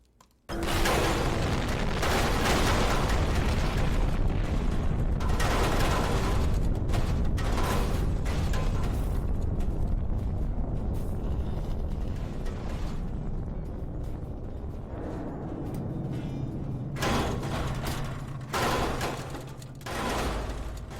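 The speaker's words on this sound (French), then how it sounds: "Le test ultime. Une bombe nucléaire." A nuclear bomb detonates in the physics sandbox game People Playground, a massive, sustained roar and rumble that fills the scene for about twenty seconds, loud throughout with crackling debris bursts and a slowly fading low boom near the end.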